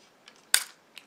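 A 1950s British Ensign Selfix 16/20 Mk I film camera with a faulty shutter fires one sharp, crisp click in a quiet room, with faint mechanical ticks just before and after.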